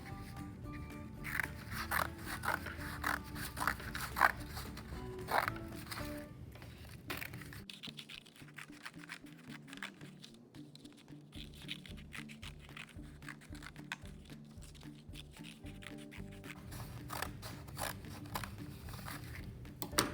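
Scissors cutting paper pieces in half for a paper loom craft, a series of quiet crisp snips and rustles, irregular and close, with some handling noise.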